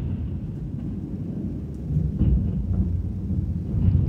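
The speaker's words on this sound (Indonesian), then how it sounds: "itu petir" Thunder rumbles through heavy rain, a low continuous roar that swells louder in the second half, with no talking over it.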